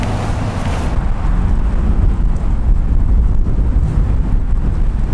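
Outdoor wind buffets the microphone in a loud, continuous low rumble that swells and flutters, with no speech over it.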